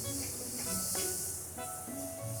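Butter melting and heating in a hot pan before chicken goes in to roast, giving a continuous soft sizzling hiss with faint tonal sounds in the background.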